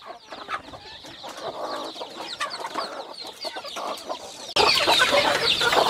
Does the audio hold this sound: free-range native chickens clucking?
yes